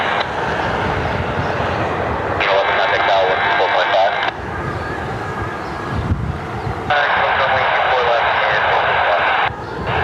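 A Southwest airliner taxis onto the runway at Cleveland Hopkins, its jet engines giving a loud, steady roar with broadband rumble that shifts in level a few times, heard alone without talk.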